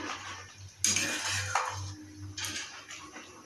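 Sweet pumpkin being stirred in a pot for pumpkin payesh, with a few metal clinks and scrapes of a spoon against the pot over a low steady hum, close and moderately quiet.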